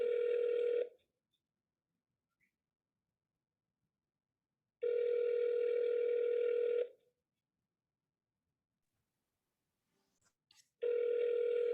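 A telephone rings out during a cold call for real estate, three steady electronic ring bursts of about two seconds each separated by long silent gaps, clear and alone.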